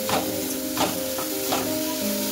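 Grated amla is stirred into melted jaggery in a pan, making a soft sizzle with a few close scraping swishes of the spoon.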